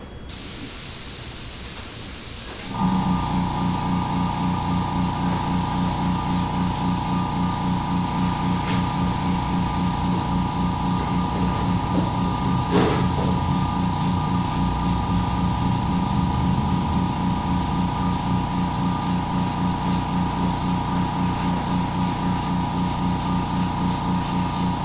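An airbrush sprays paint onto a resin pour, a loud steady hiss that switches on after a brief pause and runs continuously at close range for over twenty seconds.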